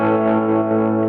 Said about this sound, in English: and I can add a tremolo.